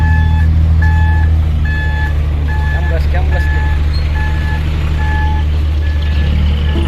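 A toy dump truck gives a steady series of electronic reversing beeps, evenly spaced and loud, over a continuous low hum with some faint handling noise in the background.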